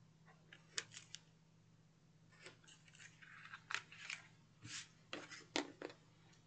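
Scissors snip at angles through paper tabs on a notepad craft, a series of quiet, crisp cuts and rustles spaced irregularly, close up over a low steady hum.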